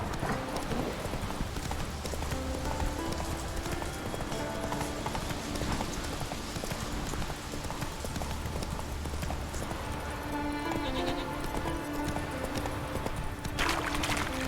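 A horse gallops across terrain in The Witcher 3: Wild Hunt, its hoofbeats a rapid continuous clip-clop thudding loudly and close throughout, with a faint whinny near the end and no talk.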